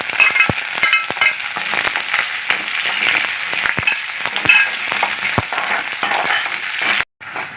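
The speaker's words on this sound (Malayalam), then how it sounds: "ഇനി അരിഞ്ഞ് വെച്ച ഇഞ്ചി ഇടാം വെളുത്തുള്ളി ഇടാം പച്ചമുളക് കറിവേപ്പില" Ginger, garlic, green chili and curry leaves frying in hot oil for a mango pickle, a steady close sizzle with scattered pops and crackles, ending in a brief silence.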